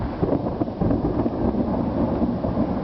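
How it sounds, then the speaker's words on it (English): Deep rolling thunder from a severe summer thunderstorm in Vermont, a loud continuous rumble that swells and churns for the whole stretch, with no voices over it. "This is a huge storm."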